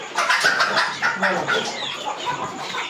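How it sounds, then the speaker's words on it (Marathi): Agitated clucking and squawking from a desi village hen being caught, rapid repeated cries close by, with a faint voice in the background. "आणि पकडायला गेल्यावर अशी बोंबडली पाहिजे कोंबडी गावठी"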